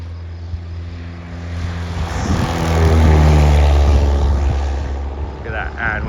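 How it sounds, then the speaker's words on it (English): A propeller airplane roars as it takes off, its engine drone swelling to a loud peak and then easing off, with speech faintly mixed in. "Plane number 2 on the takeoff."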